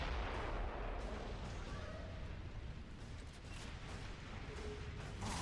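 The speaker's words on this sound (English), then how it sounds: "Mortars!" Mortar fire and artillery blasts in the Gears of War: Judgment video game, dense booming bursts rolling continuously under a noisy battlefield mix, fairly faint and distant.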